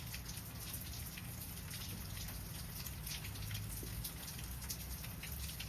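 Steady rain falls and patters on surfaces around a porch, a continuous soft hiss with faint drip detail and no one talking.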